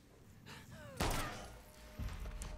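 A sharp gunshot in the video game The Last of Us Part II, a single loud crack with a short tail amid quieter game sounds, with another thump just after.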